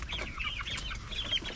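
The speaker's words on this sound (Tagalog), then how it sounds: "Ito yung mga sisiw na natira dun sa maraming namatay na sisiw natin" Small chicks peeping and cheeping in a backyard garden, a steady chorus of high chirps close by with low clucking underneath, continuous through the moment.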